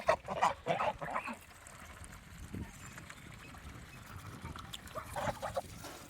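Ducks and geese on a farm feed on scattered paddy, giving off intermittent quacks and honks, loudest near the start and again toward the end, over a low rustling background.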